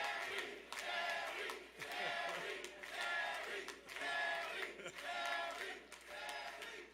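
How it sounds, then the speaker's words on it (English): A crowd of supporters cheers and applauds at a Democratic campaign victory night in Virginia, with loud swelling waves of clapping and shouting that rise and fall several times. "Give yourselves a great round of applause."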